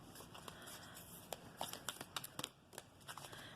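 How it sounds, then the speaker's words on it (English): Tarot cards being shuffled by hand, heard as a faint run of soft, quick riffling flicks and taps over quiet room noise. "I'm going to go and shuffle and take a few more cards"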